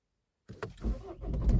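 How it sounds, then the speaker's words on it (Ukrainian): After a moment of silence, a modern push-button-start car engine cranks and catches, rumbling low and close as it starts up. "І зразу зразу запускаю двигун."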